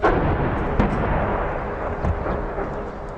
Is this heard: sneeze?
no